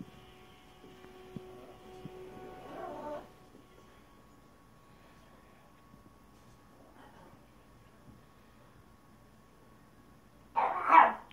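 A dog named in the title as Tyson gives a faint muffled bark or two early on, then the room goes quiet until a sharp, louder bark bursts out close by at the end.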